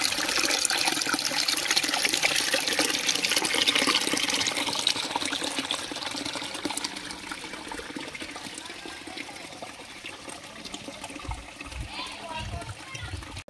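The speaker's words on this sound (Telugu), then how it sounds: "365 డేస్ ఆ స్వామివారి పాదాల నుంచి వచ్చే జలము" Holy spring water, said to flow all year from beneath a hill temple, pours in a steady broadband rush that holds close and fairly loud throughout, easing slightly toward the end.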